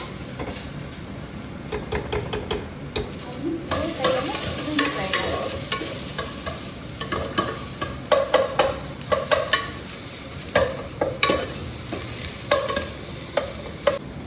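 Turmeric is stirred into frying ingredients in a pot for mutton sambar. A continuous oily sizzle runs under repeated clattering stirs and scrapes of a spoon against the metal, close and moderately loud, with no talk.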